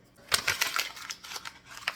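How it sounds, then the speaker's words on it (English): Journal paper being crumpled into a ball by hand, a quiet, close series of crinkling crackles and rustles in quick irregular bursts. "Crumpling into a ball."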